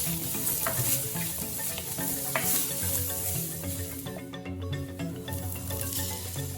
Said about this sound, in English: Adding carrot and capsicum.